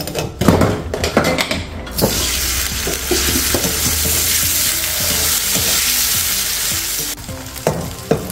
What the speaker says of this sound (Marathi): अशा प्रकारे आपण आता हे पनीर फ्राय करून घेतलेलं आहे